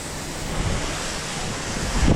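A soft wash sprayer with an M5 twist tip sprays chemical onto the algae-covered siding of a very dirty house, giving a steady, loud hiss of spray with a slight rise near the end.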